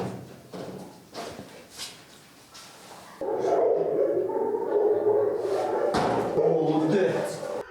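A police service dog at a canine training centre barks in a few sharp, spaced yelps, then whimpers and shuffles among steady background noise while people talk nearby.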